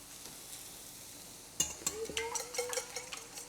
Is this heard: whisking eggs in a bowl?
yes